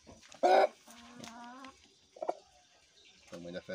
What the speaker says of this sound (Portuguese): Esse aqui é um franguinho balão.